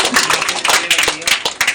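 Audience applause at a public gathering in Bihar, a dense continuous patter of many hands clapping loudly together for the whole stretch, close and steady with small swells.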